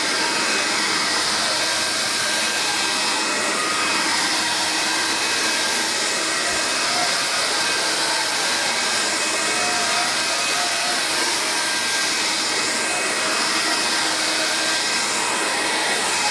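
Vax Air Cordless Lift Duo vacuum cleaner running on carpet, a continuous loud motor whine and airflow roar held steady for the whole stretch, close up with no talking.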